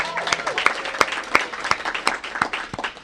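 A school crowd claps for the principal at an assembly, a dense burst of applause with sharp individual claps, moderately distant and steady throughout.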